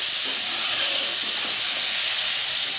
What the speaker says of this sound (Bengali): ভেন্ডিটা আমার একটু বেশ ভালো করে ভাজবো আমি এটা ভাজতে ভাজতেই সিদ্ধ হয়ে যাবে